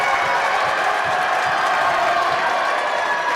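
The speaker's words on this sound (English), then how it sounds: "You can now hear the crowd's getting into it." Crowd noise fills a high school girls' basketball gym during a PIAA playoff game, a steady loud roar of cheering and clapping with no breaks.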